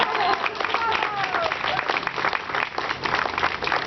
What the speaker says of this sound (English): You can clap for me if you like.